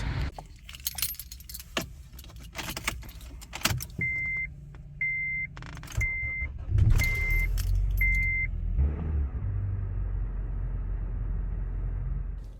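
A car's keys jangle, five short dashboard beeps chime in a row, then the starter cranks and the engine catches and settles into a steady idle after a jump from a 70mai jump starter.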